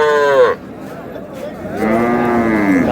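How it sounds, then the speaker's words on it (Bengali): A cow with its calf moos twice at a busy cattle market, long loud close calls with a short pause between them over crowd murmur. "গাভী বাছুর।"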